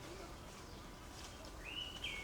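Birds chirping in the morning on an island in Geoje, South Korea: a thin, faint call or two over a steady low background hum, heard briefly and at a distance.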